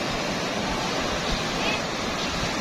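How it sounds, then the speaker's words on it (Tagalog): Strong ocean surf crashes in a dense, continuous wash of noise at a beach in Bolinao, steady and fairly loud throughout the short stretch. "hindi ka pwedeng maligo dyan, siyempre malalakas yung alon."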